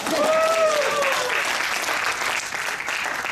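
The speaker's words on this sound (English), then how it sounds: "let's give her a round of applause" Enthusiastic audience applause at a live clown show as a volunteer comes up, thick sustained clapping with a brief voice over the first second.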